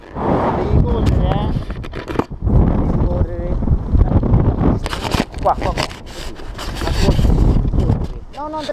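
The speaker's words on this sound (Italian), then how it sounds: "è proprio il vento che è storto, vedi come è storto il vento" Strong wind blowing outdoors, buffeting the microphone with loud, rough low-frequency rumble that persists throughout while people talk over it.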